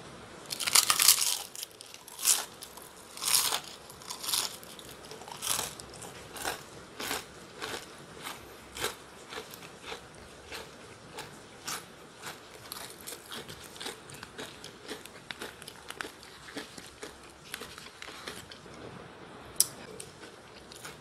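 Someone eats crispy KFC fried chicken skin, close to the microphone. Loud crunchy bites come first, then steady crackling chewing at a regular rhythm, with no talking.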